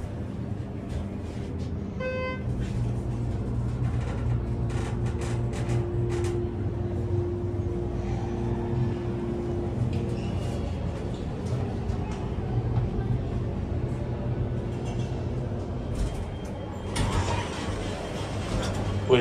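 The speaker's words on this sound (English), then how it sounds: "we can listen to the motor" A Schindler hydraulic elevator motor runs in a mall in Hayward, California, a low, steady hum that continues throughout, with scattered clicks and a louder burst of noise near the end.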